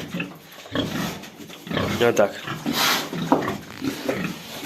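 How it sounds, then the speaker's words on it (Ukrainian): Large White breed pigs from a pig farm complex grunt and snuffle close by in a pen, with someone talking over the animal noises throughout. "Отакі свинки."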